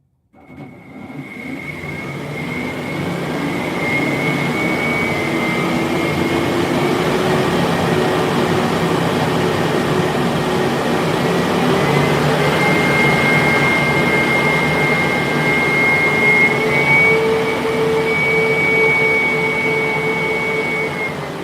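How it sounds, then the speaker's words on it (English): A drone's fan motors spin up at low throttle, about a quarter at most, during a build session, giving a steady whirring drone with shifting high tonal whines that holds for about twenty seconds, close and with no talk. "we'll try and do a little bit more of a spin up, see how we're doing"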